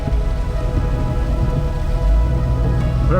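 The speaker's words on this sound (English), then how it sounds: "Started hailing." Hail patters densely on an off-road Lexus while it drives, a constant close rattle over low road and engine rumble, with a heavier thump partway through and no talk.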